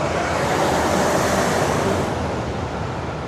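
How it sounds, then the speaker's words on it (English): Loud trucks passing on a Toronto street, a dense continuous roar of heavy engines and tire noise close by, steady and slowly fading toward the end. "That was so many loud trucks."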